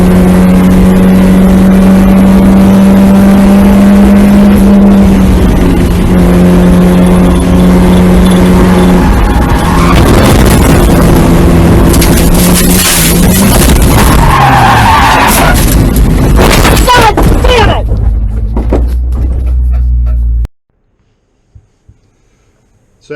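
Race car exiting turn 10 at Summit Point, a loud, sustained engine drone and harsh tire skid for about twenty seconds before cutting off abruptly to near silence.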